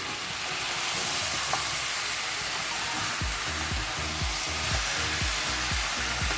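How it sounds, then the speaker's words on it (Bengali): Chicken pieces coated in oil, chili, turmeric and cumin powder sizzle steadily in a pan over low heat, with a continuous fry hiss and repeated low scraping thumps of stirring. "আর এখানে মাংসটা কষাচ্ছি"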